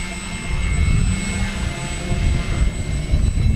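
A small FMS Super EZ radio-controlled seaplane taxis across choppy water in wind, its electric motor and propeller giving a steady, fairly close whine over rough broadband wind and water noise, with no talk.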